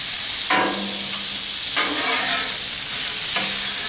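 Shrimp and peppers are stirred and tossed on a Blackstone griddle, spatula scrapes breaking in three times over a steady, loud sizzle of frying food.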